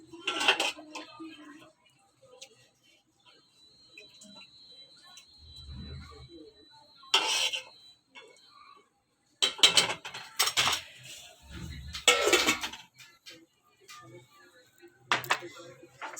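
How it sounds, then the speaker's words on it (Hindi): Rajma curry being dished out in a home kitchen, with scattered clinks and scrapes of a serving spoon against pots and plates, intermittent and fairly close, with speech in between. "ये हम डिश आउट करते हैं अपने सालन को।"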